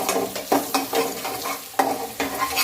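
Turmeric is stirred into hot oil with fried chilies for South Indian lemon rice, making a close, crackly sizzle broken by repeated scraping strokes of a spoon against the pan.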